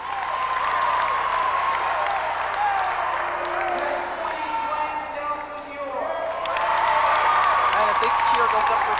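A crowd at a 1987 high school basketball tournament cheers and applauds during team award introductions, loud and sustained with a brief dip midway, a broadcast announcer talking over it.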